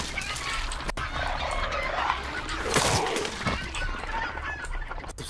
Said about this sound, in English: Goddamn chickens